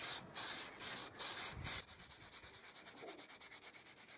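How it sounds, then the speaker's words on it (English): Spray varnish is applied to a mid-century modern style coffee table, several short hissing bursts from an aerosol can, followed by quicker rhythmic rubbing strokes, close and fairly quiet. "To give the table a more hard-wearing finish, I applied 3 coats of this spray varnish."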